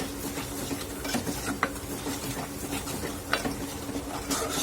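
Spice masala with garam masala and red chilli powder being stirred and sautéed in oil for a dhaba-style rajma chole curry, a steady soft sizzle under repeated close scraping stirs, with a few sharper clinks of the spoon against the pan.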